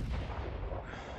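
A ship's cannon fires in the sailing game Sail, a single heavy, close boom with a rough low-end blast that quickly fades into its decay.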